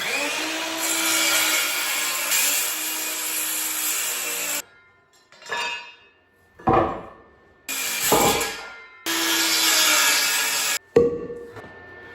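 A wood board being cut for a workbench, with long bursts of rough rhythmic sawing broken by pauses and a few shorter strokes, close by with no talking.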